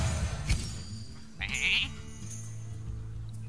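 A sheep bleats in the Hearthstone card game, a nasal cry at mid-clip over a steady game background hum and music.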